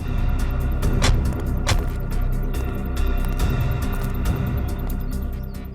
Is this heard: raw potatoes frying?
no